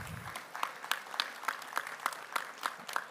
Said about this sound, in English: give a round of applause to the sponsors that made the event successful